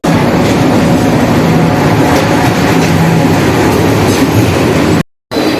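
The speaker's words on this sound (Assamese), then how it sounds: "আমাৰ ট্ৰেইন আহিছে আৰু মই দেখাই আছোঁ" The Lachit Express rolls into a station with a loud, continuous rumble and rattle of railcars and wheels, cutting out briefly near the end.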